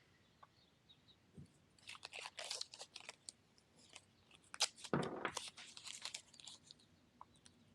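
Tape is pulled and torn in several quick crackling strips while fitting Jeep center caps into RockTrix wheel caps, close and faint, with crinkling rustles between.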